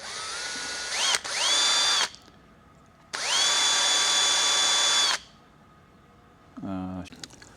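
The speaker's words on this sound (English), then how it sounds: "stick them in your drill, bit of metal polish." A power drill spinning a cotton swab with metal polish whirs in two loud bursts, spinning up with rising pitch and steady whine, pausing between, then a short squeaky rubbing noise at the end.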